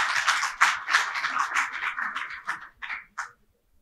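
A school audience at a national anthem recitation contest gives brief applause as a student is called to the stage, with scattered clapping that thins out and stops after a few seconds.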